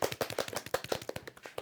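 A classroom of students clapping to welcome a classmate, a short burst of quick, dense applause, fairly quiet and steady, with no talk over it.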